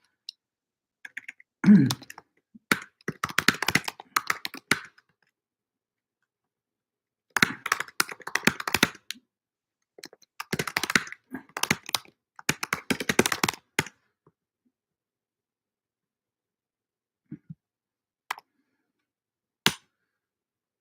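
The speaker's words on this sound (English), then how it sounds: "now I'm going to type the rest" Fingers type on a computer keyboard in a lecture setting, with close clattering bursts of keystrokes separated by silent pauses and a few isolated taps near the end.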